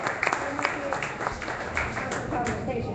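Part of an audience at an energy talk claps, a thin scattering of hand claps with a few sharper ones standing out, mixed with murmuring and a voice in the room.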